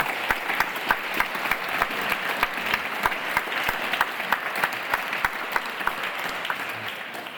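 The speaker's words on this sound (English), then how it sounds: "Maybe we can give them a round of applause." An audience at a conference session applauds the facilitators, steady sustained clapping from many hands in an indoor room, fairly loud and even throughout.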